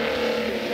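A 2-door Ford Galaxy race car crossing the finish line at a circuit, a loud, steady engine drone with a sustained low tone, heard close for under a second.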